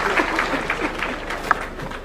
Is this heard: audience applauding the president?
yes